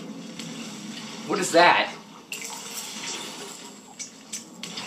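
Water running steadily in a Portal 2 test chamber, a continuous low wash under the game's ambient hum, with a brief louder surge and someone speaking over it.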